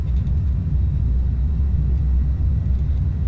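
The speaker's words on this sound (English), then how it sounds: "We're going to go ahead and rumble our way down the runway and get into the air." A jet in a flight simulator game rumbles down the runway on takeoff, a steady low engine roar and rolling rumble, continuous and fairly loud with no other sounds.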